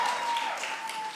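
Audience applause at a Virginia election-night campaign rally, a steady wash of clapping heard from a distance and sustained without a break across the short span.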